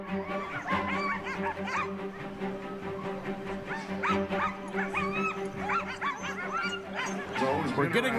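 Sled dogs gather at the start of the 40th annual Iditarod race, yipping, barking and whimpering in a busy chorus. People talk and laugh continuously over the dense, excited noise.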